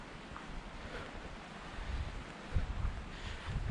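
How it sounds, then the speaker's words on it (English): The Virgin River flowing through a canyon on the Riverside Walk trail in Zion National Park, Utah, a steady broad rush of water mixed with wind noise, moderately distant with no voices. "Yep, there's the river right there."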